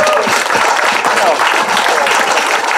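Outdoor crowd in Heinola applauding the end of a wood-chopping contest, loud close clapping throughout with voices mixed in.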